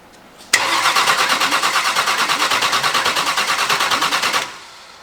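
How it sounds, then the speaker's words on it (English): A car engine cranks on the starter in a fast, even rhythmic chatter for about four seconds, loud and close, then cuts off without catching; no one speaks. "Go ahead and crank it again."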